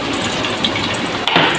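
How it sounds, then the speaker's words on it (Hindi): Chopped onions hit hot oil in a pan while cooking achari keema, giving off a continuous loud sizzling hiss, with a brief sharper crackle near the end. "अब मैं इसमें प्याज ऐड कर रही हूँ।"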